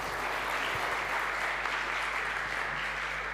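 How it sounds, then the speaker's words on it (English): Warm audience applause at a university incubator demo day, a steady dense wash of many hands clapping throughout, fairly even in level with no voices standing out. "Warm applause."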